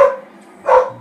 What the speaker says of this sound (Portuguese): Vou esperar o cachorro parar de latir aqui.